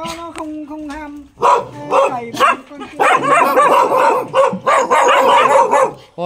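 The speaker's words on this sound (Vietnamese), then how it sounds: "Mười mấy con chó này" Several hunting dogs bark and yip at close range in bursts of loud, sharp calls, with a brief whimper near the start, while people talk in between.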